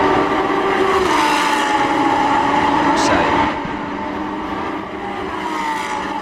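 Lamborghini Super Trofeo race cars at Shanghai pulling into the pits, a loud engine roar that drops in level partway through as they slow, with a commentator speaking over it.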